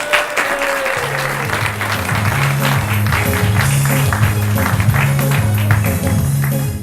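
A live audience at a comedy show gives a loud round of applause, dense and continuous for several seconds, with a rhythmic low musical beat underneath.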